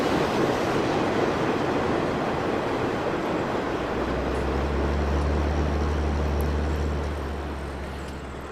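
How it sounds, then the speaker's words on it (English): Train in the Farming Simulator 19 game passing close by: a steady, loud rumbling roar with a low droning hum under it that fades out at the end. "Now that the noisy train has gone past"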